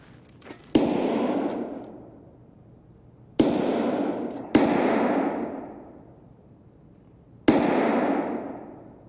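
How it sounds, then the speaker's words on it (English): Four sharp rifle shots ring out at uneven intervals in Escape from Tarkov, each followed by a long echoing decay that reads as distant fire from a Vepr Hunter or SKS, with no talk. "I'm not sure if that's an SKS or a Vepr Hunter. I think it's a Vepr Hunter."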